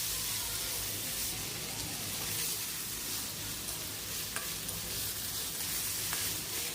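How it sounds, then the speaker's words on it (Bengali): Red lentils (masoor dal) sizzle and fry in a pan over a medium flame as they are stirred, a steady close crackling hiss with occasional scraping clicks of the spoon, no voices. "ডালটা আমি ভালো করে কিছুক্ষণ নাড়াচাড়া করে নেব। খুব বেশি কিন্তু ভাজার দরকার নেই, ওই 2-3 মিনিট মতো ভেজে নিলেই হয়ে যাবে।"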